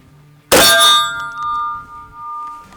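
A defense shotgun gives a sharp metallic clang as its action works, one loud close hit that rings out with lingering metallic overtones, then fades, no talking.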